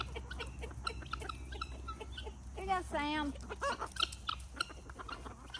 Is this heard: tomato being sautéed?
no